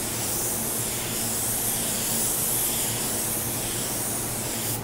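A spray gun lays down the second coat of car paint, a steady, loud broadband hiss that holds without a break from start to finish, with no talking.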